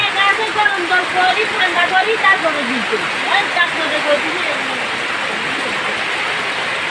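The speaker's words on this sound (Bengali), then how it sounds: "বাইরে কি বৃষ্টি হচ্ছে, মুষলধারে বৃষ্টি।" Heavy rain pours steadily in a dense, roaring hiss while a voice talks over it.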